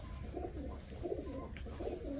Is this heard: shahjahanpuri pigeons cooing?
yes